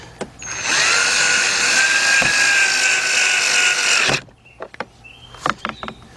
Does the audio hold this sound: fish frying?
no